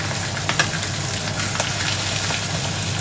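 Chicken pieces fry skin-side down in a hot pan with a steady, close crackling sizzle and scattered sharp spits, continuous throughout with no talking.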